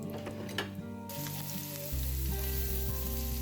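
Potatoes and soy chunks frying in oil in a home kitchen pan, a continuous close sizzle with a steady hum of background tones underneath and a faint scrape or two.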